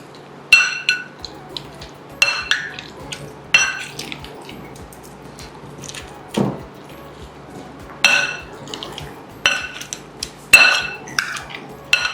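Cooked red pumpkin being crushed with its peel on, giving repeated sharp clinks of utensil against a pot or dish at a steady, spaced rhythm, close and fairly loud, with no talking.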